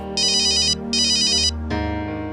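A phone ringtone sounds in two bright, buzzing electronic bursts, then gives way to a softer sustained tone, close and clear over a steady low hum, with no voices.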